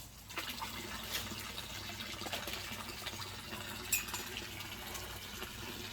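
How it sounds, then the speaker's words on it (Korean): Water left running from a tap or pipe pours steadily into a farm fish pond, a continuous gushing flow at a moderate distance with a brief splash near the end. "물은 이렇게 계속해서 틀어놓습니다. 물 흐르라고."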